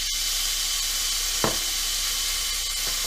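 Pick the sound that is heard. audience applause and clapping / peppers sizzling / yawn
peppers sizzling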